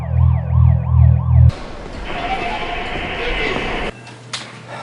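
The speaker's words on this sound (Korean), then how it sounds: "경찰차 소리가 들리기 시작합니다" A police siren wails in rising and falling cycles, loud and close, then cuts off abruptly into a noisy outdoor scene.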